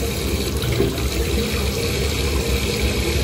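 Tap water running steadily into a sink while a child washes her face, a constant close splashing flow with no talk over it.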